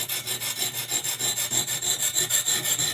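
An 8-inch chef knife scraped back and forth across a medium-grit India stone, giving a steady rhythmic rasping of repeated close strokes with no talk.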